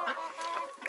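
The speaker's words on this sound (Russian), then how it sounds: "Курочки тут голошейные." Naked neck hens and roosters cluck close by in a farmyard, short overlapping clucks coming in quick bursts, with no talk over them.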